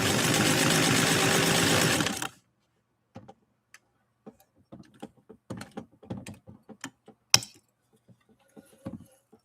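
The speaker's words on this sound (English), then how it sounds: "3 layers of U.S. Army grade canvas with Jackie's Model 127 Dressmaker Rotary by White Sewing Machine Company" A White Model 127 Dressmaker Rotary sewing machine drives through three layers of U.S. Army grade canvas in a steady, loud whirring burst of about two seconds, then stops, leaving scattered clicks and handling sounds.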